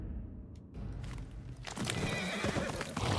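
A horse whinnies loudly in the video game Ghost of Yotei, with hooves clip-clopping as it moves, set against an outdoor game soundscape and no speech.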